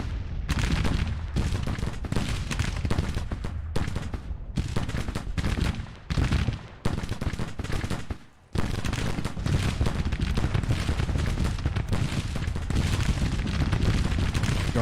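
Dense musket volleys and artillery fire in Grand Tactician: The Civil War, troops firing from woods into an enemy flank; continuous loud crackling gunfire with booming blasts, a brief lull near the middle, then relentless again.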